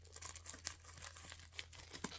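An Amazon package being opened by hand, quiet close tearing and crinkling of packaging in short irregular bursts, no voices.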